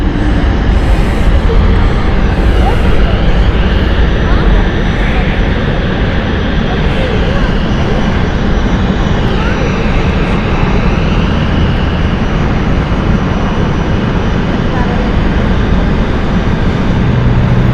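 An inbound airliner at London City Airport roars loud and close, a continuous jet engine rumble with hissing broadband noise that holds steady throughout, with a voice faintly underneath.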